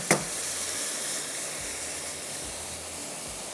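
Spiced daal simmering on a low flame hisses in a steady, even sizzle, with a brief sharp burst at the start as the masala goes into the pot.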